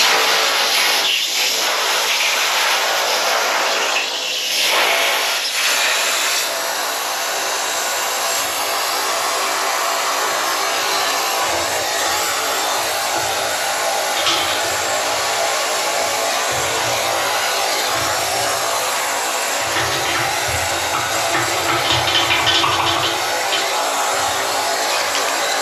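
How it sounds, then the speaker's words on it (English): A workshop air compressor drives a steady, loud hiss of air through a tube to pull a string through while wiring a camper trailer light kit, with low rumbling pulses joining partway through. "I'm gonna hook the compressor up and we're gonna blow air through it with a string"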